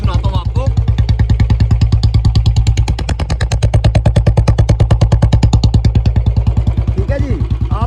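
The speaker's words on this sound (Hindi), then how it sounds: "एक बार आप आवाज़ सुनो बाइक की" A Royal Enfield Bullet Standard 350 BS6 motorcycle, 2022 model, running steadily close by, its single-cylinder engine giving a loud, even thump that holds throughout.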